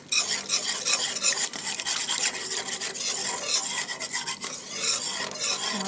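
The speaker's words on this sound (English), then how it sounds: "And mix that up." A spoon stirring black pepper into a thick macaroni and cheese sauce in a pot, a steady close scraping and rubbing rhythm with no talk.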